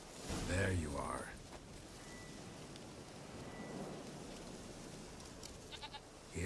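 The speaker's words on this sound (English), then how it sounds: "Here, goat." Goat bleating in The Witcher 3, heard as a short cry near the start over a steady bed of rain and ambient game noise, followed by quieter scattered sounds.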